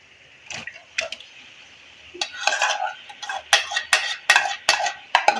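Marinated chicken going into a pan of fried spices, with sharp metallic clanks of a utensil against the pan and bursts of sizzling that grow busier toward the end.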